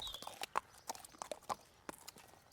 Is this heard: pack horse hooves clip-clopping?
yes